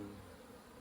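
A swarm of honey bees gathered around a bait hive at an old house gives a faint, steady, low buzzing drone for under a second, with no other sounds.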